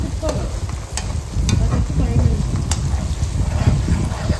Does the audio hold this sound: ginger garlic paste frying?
yes